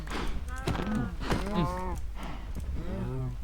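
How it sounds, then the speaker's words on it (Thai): Cows and a calf mooing in Minecraft, several drawn-out, wavering bellows one after another, loud and close over steady game background noise. "มันจะโดนวัว มันจะโดนลูกวัวด้วย"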